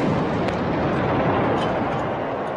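An artillery gun fires in a salute at a presidential swearing-in ceremony, leaving a loud, broad rolling boom that fills the air and trails off slowly, with no speech.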